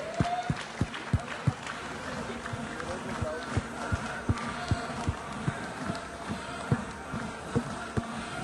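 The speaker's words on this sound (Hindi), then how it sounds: "फ्राइडे फिल्म वर्क से शीतल भाटिया, जोरदार तालियां।" An audience at a film music launch event claps, with scattered, distinct hand claps forming an uneven rhythm over a busy background of crowd murmur and hall noise.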